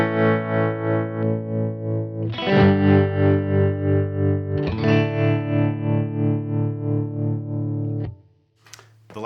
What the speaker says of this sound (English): So here's the trem.